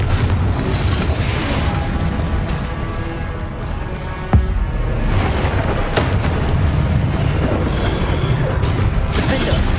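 Confringo explosive spells in Hogwarts Legacy go off as deep booms and rumbling blasts amid continuous loud mechanical game noise, with one sharp crack standing out near the middle.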